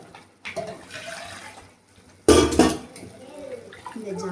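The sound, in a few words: pouring water into the cooking pot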